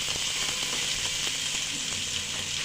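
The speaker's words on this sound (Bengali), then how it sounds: "আর 1 চামচ রসুন বাটা দিয়ে ভালোভাবে পেঁয়াজের সঙ্গে আমি ভেজে নেব" Onion frying in oil with ginger-garlic paste and ground spices for chicken bhuna khichdi gives a loud, continuous crackling sizzle with small irregular pops and faint stirring, with no speech over it.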